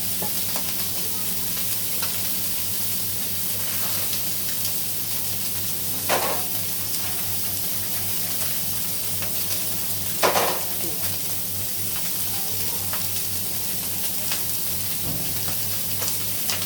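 Ground gravy paste fries in oil in a kadhai with a steady, dense sizzle throughout, broken by a couple of brief scraping stirs, close and continuous.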